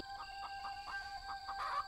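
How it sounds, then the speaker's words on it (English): Chickens in a horror video game cluck and squawk in short repeated bursts over a steady electronic hum, moderately distant and fairly quiet. "I woke up to my chickens making a load of noise"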